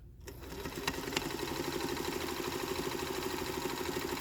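A Singer 221J Featherweight sewing machine stitches steadily forward, long, short and in reverse, giving a continuous close mechanical whirr with a soft rhythmic chatter throughout.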